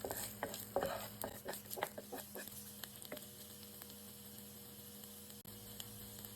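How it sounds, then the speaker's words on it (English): Noodles stir-fried with ginger and garlic in a pan: sharp scraping and tossing strokes with a utensil, busy at first and then easing off, over a faint steady sizzle and a low hum, no voices. "And I'm going to like stir fry it."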